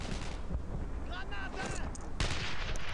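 A grenade bursts in the WWII shooter Brothers in Arms: Earned in Blood: one sharp blast cuts through steady battlefield rumble and scattered rifle fire, with voices calling out beneath.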